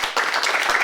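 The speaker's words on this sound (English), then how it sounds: "applause. Awesome projects" Audience at a presentation breaking into applause, a brief burst of dense clapping lasting under a second.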